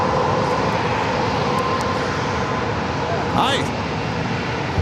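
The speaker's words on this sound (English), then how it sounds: "as well as American Airlines heading back to Dallas-Fort Worth," An American Airlines airliner's engines roar steadily at San Diego airport, a loud, sustained jet rumble filling the whole clip, with a brief greeting spoken over it near the start.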